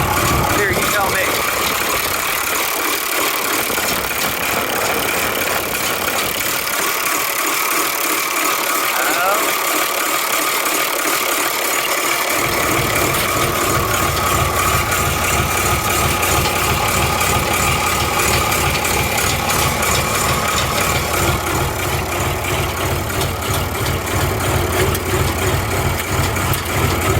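Oliver 1755 tractor engine idling steadily after a fuel leak repair, a continuous low rumble with light rattle throughout, close and fairly loud, with voices talking over it.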